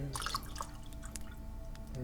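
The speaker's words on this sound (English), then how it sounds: "I'm just going to pour off the ale." Ale is poured into a tankard at a tavern counter, a close, wet trickle and gurgle of liquid with small splashy drips across about two seconds.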